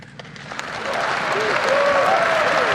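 Audience applause during a State of the Nation Address speech, rising from scattered claps into a full, sustained ovation from a large hall, with a few cheers and whistles riding on top.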